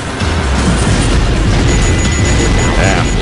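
Continuous loud, booming blasts and crashes as objects are blown up while aiming and shooting in Sonic Adventure 2, a dense wall of explosions over the whole moment.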